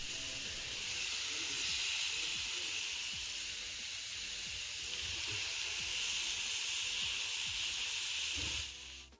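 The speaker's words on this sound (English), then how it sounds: "The nice sizzle that you're hearing" Steady loud hiss of chicken searing in a hot pan, constant throughout and heard alone, fading out abruptly at the very end.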